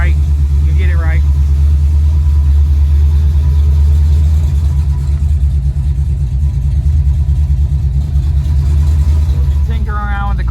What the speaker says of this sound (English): Slowly getting the car running.